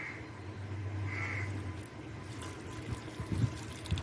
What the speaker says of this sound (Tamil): மிச்சம் இருக்கிற இந்த தேங்காய் பாலையும் ஊற்றிருங்க.